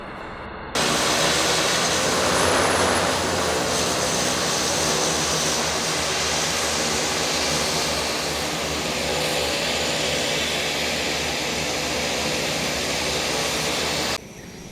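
Airplane taking off at Lukla airport, a loud, steady roaring engine drone that holds for most of the stretch with little change before cutting off near the end; no talking.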